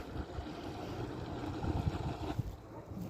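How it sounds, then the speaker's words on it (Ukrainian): A small remote-controlled fishing bait boat approaches over open water, giving a low, steady motor hum mixed with water and wind noise, moderately close. "Кораблик доплив до нас, можемо вимкнути тепер пульт."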